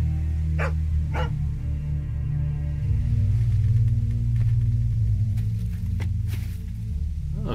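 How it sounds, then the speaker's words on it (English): A dog in The Walking Dead video game barks several sharp, close times over a loud, droning low game soundtrack, the barks spaced out irregularly with no one talking. "Maybe we can bond a little with the dog."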